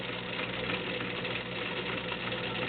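A White Selectronic 970 heavy-duty 1.6-amp sewing machine runs its decorative stitches with a continuous, even motor whir and rapid needle chatter, close and steady throughout with no speech.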